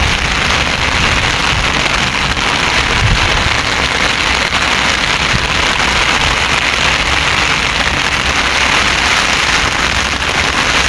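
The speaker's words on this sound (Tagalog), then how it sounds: "Ang lakas ng ulan." Heavy rain pours down in a loud, constant hiss that drowns everything else, with a faint low rumble underneath and no talking.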